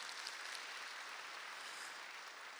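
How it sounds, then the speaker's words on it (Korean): A church congregation claps to welcome new members at a Sunday morning service, producing a soft, even patter of many hands from a distance, steady and unbroken. "우리 동산의 가족이 되신 분들에게 마음을 담아 박수로 환영하도록 하겠습니다."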